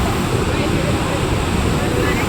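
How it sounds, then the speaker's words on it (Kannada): A waterfall near Madikeri in Kodagu roars as a steady, loud, broadband rush of falling water that fills the whole moment without a break, close to the listener. "ನಿಜವಾಗ್ಲೂ ಮುಂದೆನೇ ಬೀಳ್ತಾ ಇದೆ ನೀರು."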